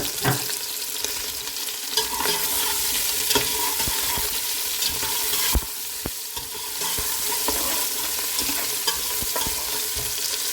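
Meat frying in hot oil with onions and cumin gives a loud, continuous close sizzle, with occasional sharp clacks and scrapes of stirring.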